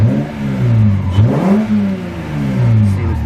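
A Toyota Supra MKIV engine runs close by with a steady idle hum that swells briefly as it revs, then settles back down.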